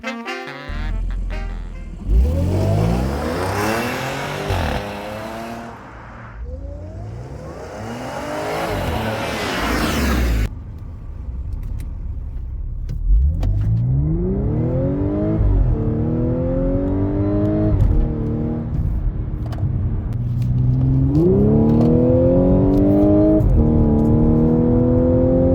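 An Audi 3.0T supercharged engine with holes cut in the airbox revs repeatedly, each run rising into a loud, climbing whine that sweeps up and falls back, close and dominant with no talking.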